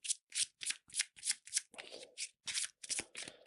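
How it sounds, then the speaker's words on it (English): A deck of tomb effect cards for an Egyptian tomb board game is riffled in about ten quick, crisp bursts, close and clear with no talking. "So we need the tomb effect deck, which I have put here. Brilliant. So quick shuffle."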